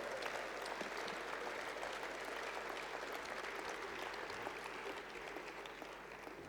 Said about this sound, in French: On peut les applaudir et ce sera notre marque de remerciement.